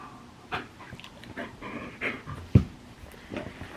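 A dog pants close by in quick, uneven breaths, with a few soft snuffles and one sharper thump partway through; no one talks.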